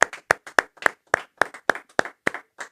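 A church congregation claps in a steady unison rhythm, about ten sharp, evenly spaced hand claps close by, with no talking over them.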